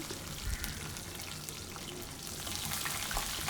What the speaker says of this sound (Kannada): ಸ್ವಲ್ಪ ಫ್ರೈ ಆದಮೇಲೆ ಇವಾಗ ಶುಂಠಿ ಹಾಕೋಣ ಹಸಿಮೆಣಸಿನ್ಕಾಯಿ ಹಾಕೋಣ